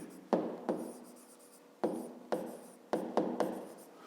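Pen or pencil writing on paper while working a 5th-grade math exercise, a series of scratchy strokes in bursts, close and fairly quiet, with no talking.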